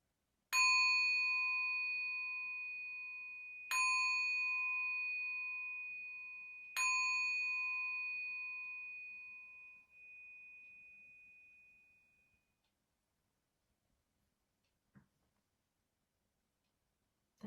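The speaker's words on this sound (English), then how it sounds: "Taking a moment now to receive the sound of the bell" Meditation bell closing a practice, three clear ringing strikes about three seconds apart, each ring decaying slowly into silence, quiet and alone.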